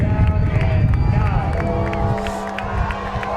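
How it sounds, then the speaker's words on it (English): Stadium crowd at a high school football game at Carroll Stadium rumbles with sustained cheering and babble, loud and steady throughout, with a faint tonal hum emerging in the second half. "Crowd getting into it here at Carroll Stadium"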